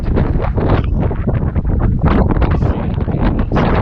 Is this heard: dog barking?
no